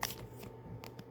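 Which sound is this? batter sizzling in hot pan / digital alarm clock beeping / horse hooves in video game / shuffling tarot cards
shuffling tarot cards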